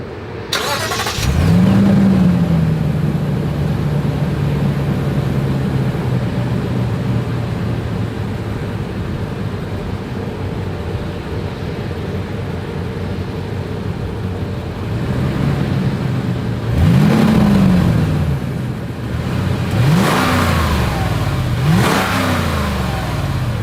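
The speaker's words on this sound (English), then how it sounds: "As always, here is that exhaust clip." A 2022 Lexus GX 460 SUV engine starts with a roar, settles into a steady idle, then is revved several times through the exhaust, each rev rising and falling, loud and close.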